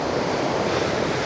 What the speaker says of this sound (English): The wind's blowing up the valley.